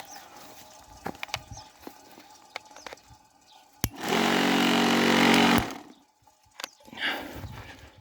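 A small electric motor pump starts with a sharp click and runs steadily with a loud, even hum for about a second and a half, then cuts off abruptly.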